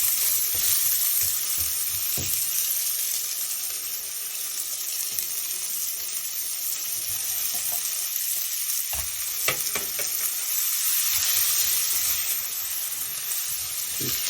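Purple onions fry in hot oil while being stirred, a steady close sizzle and hiss with occasional scraping clinks from the stirring.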